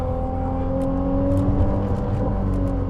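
A Ferrari 296 GTB Assetto Fiorano engine drones steadily while driving on a rainy street, a smooth, continuous hum with faint shifting tones and no voices.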